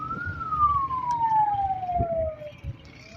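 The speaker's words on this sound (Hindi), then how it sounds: "और ये आप देखिए एम्बुलेंस यहाँ से जो है वो जा रही है।" Ambulance siren sounding during a street protest with tear gas shelling, a single steady tone gliding slowly downward as the vehicle moves away, heard at a moderate distance over rumbling traffic and crowd noise.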